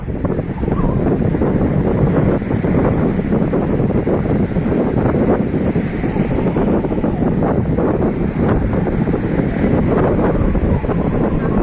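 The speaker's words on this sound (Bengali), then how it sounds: "সুন্দর হাওয়া।" Sea breeze buffets the microphone on Hoi An beach in Vietnam, with ocean surf rolling underneath. The rush is loud, constant and close, with no voices.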